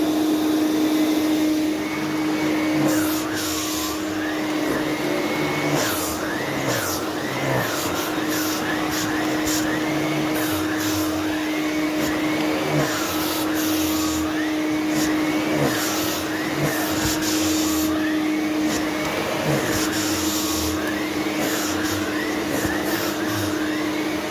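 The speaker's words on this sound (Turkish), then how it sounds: "Ayarını şöyle elimle maksimuma getiriyorum. Şöyle dövücüsünü de çalıştırıyorum." A vacuum cleaner with its beater brush switched on runs at maximum power, a loud continuous whine and roar with a wavering pitch as the head moves, held steady throughout.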